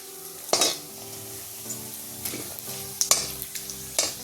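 Whole spices for a homemade masala roast dry in a pan while a spoon stirs them: several sharp scraping strokes with a soft crackle between, close and fairly quiet, no voices.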